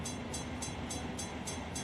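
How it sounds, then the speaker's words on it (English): Freight train rolling past in the Run 8 train simulator game, a faint continuous rumble with a regular repeating clatter of wheels over rail joints, steady and distant. "wait for our train to go by"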